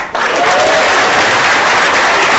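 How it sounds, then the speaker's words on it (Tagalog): Large audience applauding at a business organization event, a dense, loud, sustained roar of clapping that starts abruptly and holds steady throughout. "Salamat sa mga palakpak nyo."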